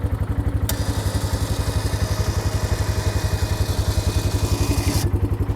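Superwinch LT3000 winch on a 2006 Yamaha Kodiak ATV runs steadily, a loud close motor drone with a rapid pulsing beat and a sustained whine for several seconds before it stops.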